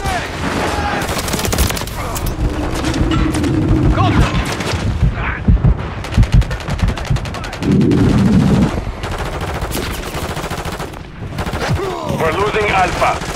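Dense Modern Warfare 3 multiplayer combat in Hardpoint and Domination modes: rapid automatic rifle bursts and single shots crack up close, with heavier blasts mixed in, while in-game radio voices call out under the steady barrage.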